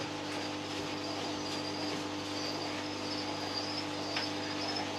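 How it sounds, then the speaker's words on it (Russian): Crickets in a terrarium chirp in a dense, continuous trill, close and steady with no voices. "Здесь сверчки"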